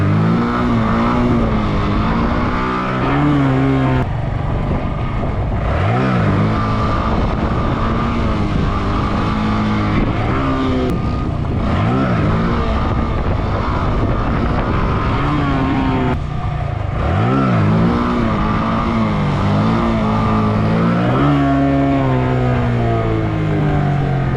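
A motorcycle engine revs hard during wheelie attempts, loud and close, climbing in repeated surges of throttle with brief drops between, a rider's practice run with no speech.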